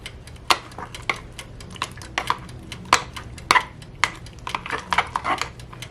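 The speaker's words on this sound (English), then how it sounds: "And now I need to mix the egg in." A spoon works an egg into a stiff cheesecake mixture in a bowl, giving irregular knocks, clacks and scrapes against the bowl at close range, with no talking.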